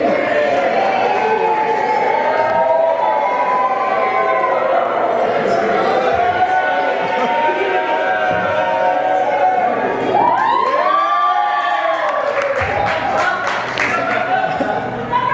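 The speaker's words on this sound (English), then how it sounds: "Big round of applause." Wedding guests cheer and applaud after a best man's toast to the newlyweds, a loud crowd roar with whoops and rising shouts, clapping mixed in, and voices talking throughout.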